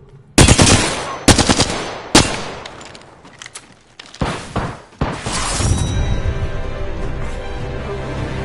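Apex Legends gunfire erupts in loud automatic bursts, several sharp rapid volleys separated by brief gaps, then a denser sustained stretch of shooting and impacts.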